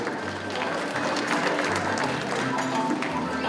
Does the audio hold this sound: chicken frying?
no